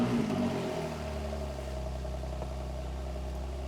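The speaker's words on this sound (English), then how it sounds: "So let's start it and hear that lovely sports exhaust." A Porsche 911 Carrera S 991.2 with sports exhaust fires up with a loud burst, then settles into a steady, deep, close idle rumble with no voices.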